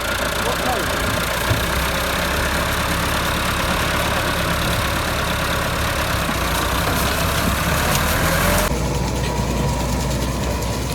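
A Massey Ferguson 385 tractor runs with its PTO engaged, making a loud, steady mechanical grinding and rattling gear noise over the engine's drone for the whole stretch.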